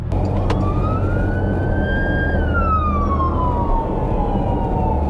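A wailing ambulance siren sweeps up and then slowly down in pitch, its tone dropping as it passes, over steady road and engine rumble.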